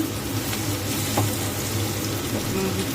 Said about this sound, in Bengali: দেখো বন্ধুরা, পেঁয়াজটা ভাজা হয়ে গেছে।